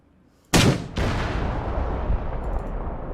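A PZF-84 launcher in ARMA 3 fires with a sharp, loud blast, followed half a second later by a second booming crack that rolls into a long, fading rumble.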